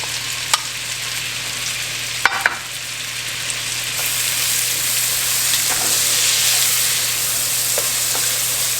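Celery and onion cooking in butter and bacon grease in a soup pot for loaded baked potato soup, a continuous bright sizzle that swells slightly midway, with a few sharp clicks and light stirring knocks.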